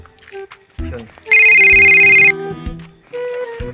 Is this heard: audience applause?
no